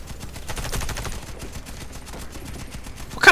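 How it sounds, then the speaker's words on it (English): A .50 cal machine gun firing in Warface: steady rapid bursts sound at mid distance, with heavier shots swelling toward the end. "He's carrying like a 50 cal around?"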